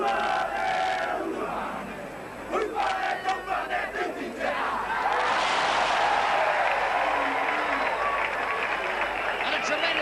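Crowd at a 1985 New Zealand versus Australia rugby league match at Carlaw Park roars in sustained ovation, loud and steady, with a brief dip and scattered shouts before the cheering swells again.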